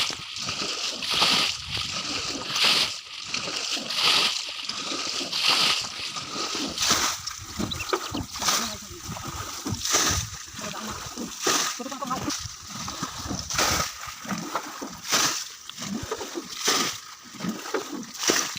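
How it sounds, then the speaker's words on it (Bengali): Water being bailed out of an outdoor pond by hand to drain it for catching fish, with repeated splashing and sloshing throws in a steady rhythm, close and fairly loud, under intermittent talking. "তো দেখো এখানে জল হিচা হচ্ছে"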